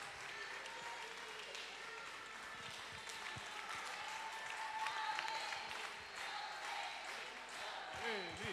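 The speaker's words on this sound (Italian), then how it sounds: "fatele un grande applauso." Quiet, distant audience applause at a school jazz concert, a steady wash of clapping heard faintly, as if from far back in the hall.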